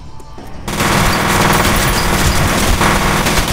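Automatic gunfire from F.E.A.R. erupts after a quiet half-second, loud and close, with rapid repeated shots and booming echoes carrying on for the rest of the moment, and no voices.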